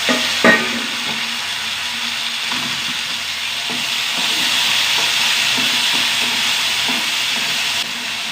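Tomatoes frying and softening in a pan, a steady broadband sizzle with occasional stirring clicks and scrapes, close and fairly loud throughout, no talking.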